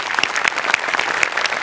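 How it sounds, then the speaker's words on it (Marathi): Energetic audience applause after a comedy stage performance, dense clapping with sharp individual claps popping out, loud and sustained throughout. "जोरदार टाळ्या"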